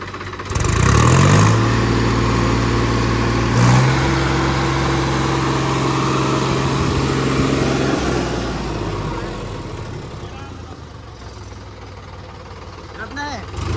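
Lal Ghoda thresher engine revving under the accelerator during servicing, a loud steady mid-pitched drone that surges at the start and slowly eases off, with talking over it.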